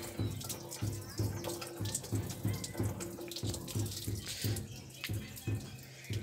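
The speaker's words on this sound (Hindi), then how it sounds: "ये मेरा चापाकल है, इससे पानी निकाला जाता है" Water gushing from a hand pump (chapakal) in a small Indian home garden, pouring and splashing in rhythmic surges with each stroke of the pump, close and fairly loud.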